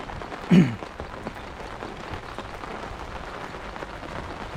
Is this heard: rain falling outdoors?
yes